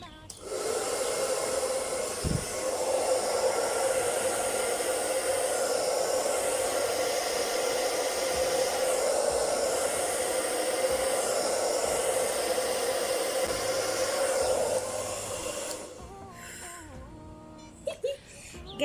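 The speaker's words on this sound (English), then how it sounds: "Let's get into our blow drying." A hair dryer roars steadily and close while short natural hair is blow dried, with a brief stop and some handling noise near the end.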